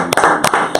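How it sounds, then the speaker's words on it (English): Three sharp hand claps spaced evenly over a steady tonal background during a tribute to a guest at a live event. "Clap it up."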